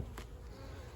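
Honey bees buzz at an open hive during an inspection, a faint, steady low drone with one brief louder pass close by.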